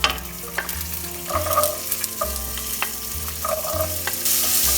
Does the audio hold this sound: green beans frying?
yes